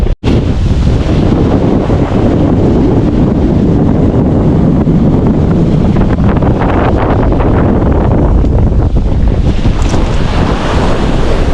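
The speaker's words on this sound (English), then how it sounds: "I'm hoping that you can hear me over all the wind on this beach" Strong wind buffets the microphone on a beach at Caumsett State Park, roaring loud and steady throughout with a low rumble of surf beneath it and no voices.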